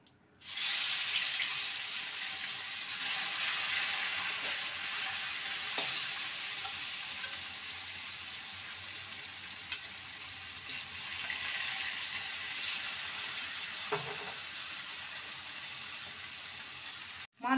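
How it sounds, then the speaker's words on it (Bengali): Fish frying in a pan of oil, giving a steady hissing sizzle that runs unbroken throughout, with a few faint clinks and stirs. "এবার মাছগুলোকে ভেজে নেব।"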